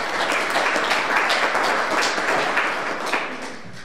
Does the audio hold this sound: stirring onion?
no